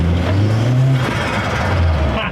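A Mk1 Volkswagen Golf with a swapped 300+ hp 1.8T engine revs and pulls under open throttle, a steady loud drone rising in pitch, close by, with faint voices mixed in.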